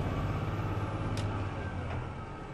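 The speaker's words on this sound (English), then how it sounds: "I'm going to skip shift from 6th direct to 7th direct." Heavy truck with an 18-speed transmission skip shifting from 6th direct to 7th direct, a steady loud diesel engine drone filling the cab with a faint click around the shift and no talk.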